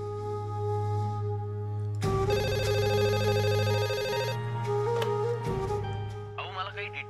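A telephone rings in a Marathi TV serial scene: a bright, repeating electronic ringtone sounds for about two seconds over a low background music bed, and the scene's audio carries on after it.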